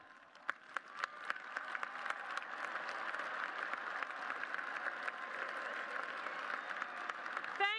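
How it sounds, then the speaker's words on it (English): A large commencement crowd at the 2018 University of Washington ceremony breaks into sustained applause, dense steady clapping with a few sharper claps near the start, continuing throughout and ending with a brief voice. "And graduates, let's applaud them."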